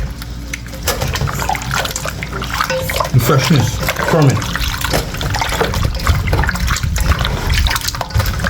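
Iguana meat being washed in a bowl of water, with continuous sloshing and trickling liquid close to the microphone while a person talks over it.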